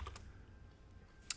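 Soft, rapid keystrokes on a computer keyboard, faint and steady, ending in one slightly sharper key click.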